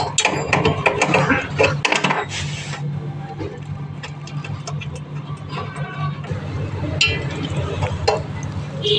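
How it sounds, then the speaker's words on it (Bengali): Nuts are worked loose on a deep freezer compressor during repair, giving close metallic ratcheting and clanking with scattered clicks and scrapes over a low background hum. "যে 4টে নাট থাকে নাটগুলোকে খুলে নেব"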